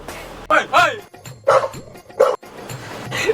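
A dog barks and yelps in several sharp bursts close by, mixed with people shouting and talking around it in an outdoor setting.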